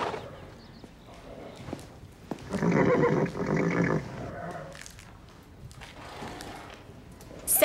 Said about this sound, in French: Comanche, tu es le cheval le plus intelligent de toute la Terre.